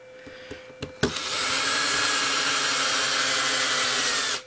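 A power driver tightens screws on a Traxxas 1/16 E-Revo T-Bone chassis brace, starting with a few light clicks and then a loud continuous whir lasting over three seconds before stopping.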